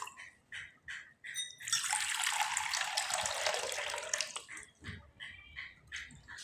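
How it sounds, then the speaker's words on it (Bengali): Water poured into a bowl of ground semolina and flattened rice for a batter: a steady splashing pour of about three seconds, close and fairly loud, with quieter stirring or handling sounds before and after. "আমি এখানে 4 বাটি জল ব্যবহার করলাম।"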